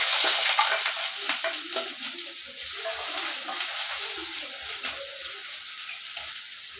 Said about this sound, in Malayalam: ഉണക്കമുളക് കറിവേപ്പില ഉള്ളി അരിഞ്ഞത് അത് വഴറ്റായി